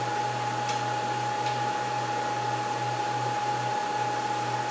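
Server fans roaring during startup, a loud constant whirring hum with a steady high tone and low drone, unbroken throughout with no voices.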